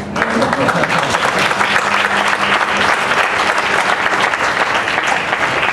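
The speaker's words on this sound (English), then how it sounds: "I'm going to give myself a round of applause" A room full of people at a Bombardier press announcement of airBaltic's CS300 aircraft order breaks into loud, sustained applause, dense and continuous for the whole stretch.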